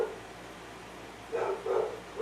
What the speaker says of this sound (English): my dog's going cuckoo